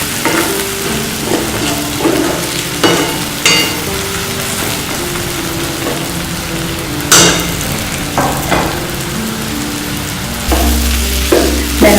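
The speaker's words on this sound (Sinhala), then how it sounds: "දැල්ල බදිනකොට ටිකක් ප්‍රවේශමෙන් බදින්න" Cuttlefish pieces frying in oil make a loud, dense sizzle close by, broken by repeated clattering strikes of a spatula against the pan every second or two.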